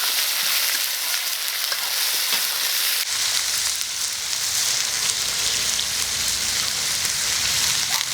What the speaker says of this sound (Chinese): 我们锅里加这么多油，把鸡肉先下去炒。